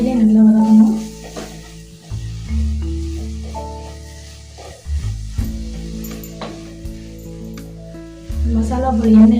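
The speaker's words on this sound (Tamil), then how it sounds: "மசாலா பொருளை வந்து நல்லா வதக்கிக்காங்க. எண்ணெயிலே நல்லா வதக்கணும்." Spices sautéed in oil over a low flame for vatha kulambu, a steady sizzle with intermittent stirring, backed by a continuous low hum and tonal background noise.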